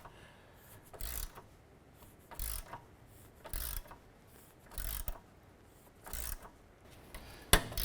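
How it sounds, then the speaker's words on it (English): A 14mm gear wrench ratchets a nut off a sway bar end link on a 2008-2012 Honda Accord: short bursts of rapid clicking at roughly one-second intervals, close and clear, with no talk. "14mm gear wrench to go ahead and remove this nut"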